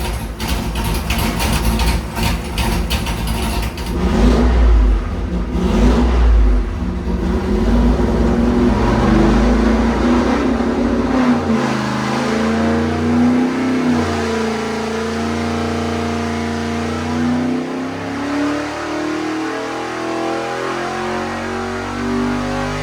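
A 406 small-block Chevy street engine running an E85 carburetor on a dyno, revving loud and close, climbing to a sustained high pull, then dropping back with a burbling, rumbling decay.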